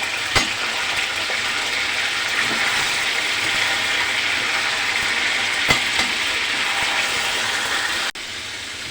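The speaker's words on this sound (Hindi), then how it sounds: "अब हम फ्राई करेंगे इस चिकन को" Chicken fries in a karahi with a loud, steady sizzle that lasts throughout, with a few sharp utensil knocks and a sudden drop in level near the end. No talking.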